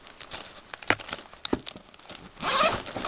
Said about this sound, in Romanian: Se deschide cu fermoar.